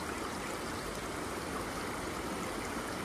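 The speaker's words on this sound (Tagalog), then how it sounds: "Tubig po yung dumaan dyan patungo doon sa palayan." River water flowing through a channel toward rice fields, with a dam just upstream, makes a steady, close rushing wash that carries on without a break, with no talk over it.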